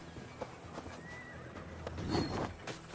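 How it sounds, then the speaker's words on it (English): A horse whinnies over a steady backdrop of hoofbeats in the game Assassin's Creed Valhalla, with a louder swell of neighing and clopping near the end. "I'll call my own horse"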